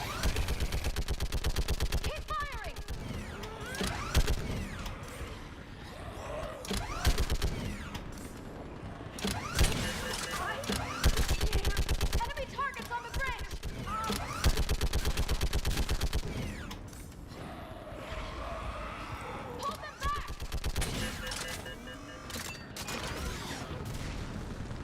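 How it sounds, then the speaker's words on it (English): Gunfire in the video game Mass Effect, dense rapid bursts and shots rattling almost continuously, loud and close, with shouted voices and mechanical clatter mixed in. "Keep firing!"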